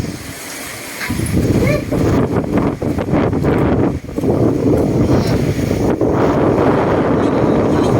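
Steady wind roars and buffets against the microphone throughout at a beach, loud and continuous, with faint voices and rumbling outdoor noise underneath.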